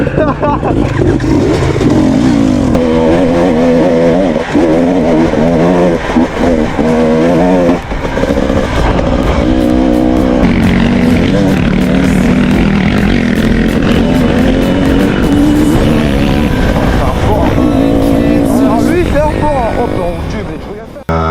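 An enduro motorcycle engine roars loud and close throughout a ride in Portugal, revving up and down with shifting pitch over rough ground, and voices talk over it.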